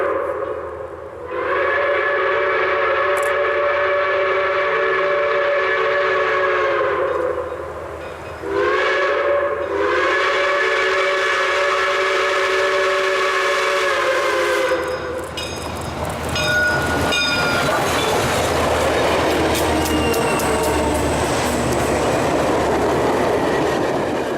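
Reading and Northern locomotive 425 rumbles past on an autumn excursion with a long, loud horn sounding in two blasts, followed by the clatter and roar of cars rolling by.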